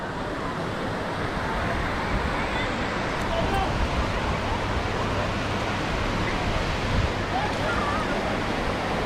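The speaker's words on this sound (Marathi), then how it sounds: "मस्त आहे हा बीच आणि मोठा पण आहे." Sea waves at Dapoli beach make a broad, steady roar of surf that fills the whole clip without a break. It stays loud and continuous, with no clear speech over it.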